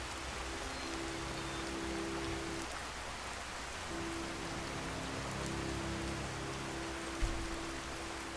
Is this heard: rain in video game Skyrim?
yes